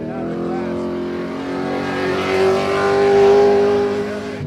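A race car engine roars at full throttle on a road course during Raceway Park E-Town Gambler qualifying, a steady loud drone that swells and peaks midway before easing slightly.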